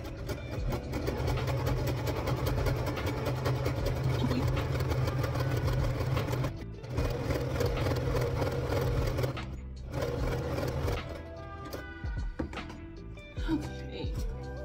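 A sewing machine runs steadily while top stitching a cosplay costume, a dense continuous mechanical whir that stops briefly twice before starting up again.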